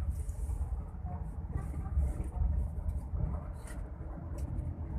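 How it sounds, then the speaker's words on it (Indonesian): Evening traffic on a town street in Pantonlabu, Aceh Utara, rumbles low and continuous as vehicles pass, with hissy higher swells from passing cars over a steady road din. "Ya, lalu lintas agak lumayan ramai ya."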